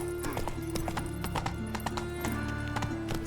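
Horse hooves clip-clop at a steady gallop in The Witcher 3, loud and close, with a horse whinny and a busy game soundtrack running beneath the rapid rhythmic beats.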